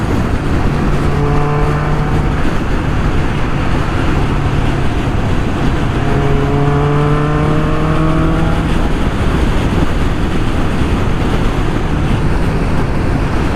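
A 1994 Kawasaki Ninja ZX-11 (ZZR1100) sport motorcycle engine roars steadily at speed on the road, its pitch rising and falling through gear changes over constant road and wind noise.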